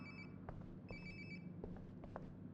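A phone rings in the video game Life is Strange: Before the Storm. Repeated electronic ringtone bursts play at moderate volume over a low background hum, with no talking.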